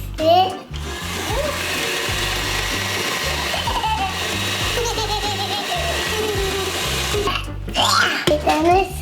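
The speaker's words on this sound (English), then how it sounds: "Butter, oil, sugar. Now we're gonna mix it." An electric mixer beats butter, oil and sugar for a cake with a steady motor whir, while an adult and someone talk over it.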